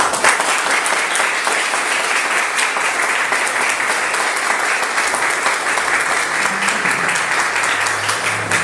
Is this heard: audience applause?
yes